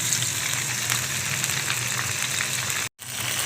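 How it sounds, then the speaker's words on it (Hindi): Fish pieces frying in cooking oil for a korma give a dense, even sizzle and crackle throughout, close and fairly loud, with a brief dropout near the end and no talk. "ये मैं दूसरे तेल फ्राई वाले तेल में नहीं कर रही, कुकिंग ऑयल में कर रही हूँ फ्राई"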